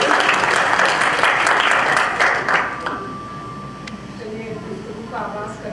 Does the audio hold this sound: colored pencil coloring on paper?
no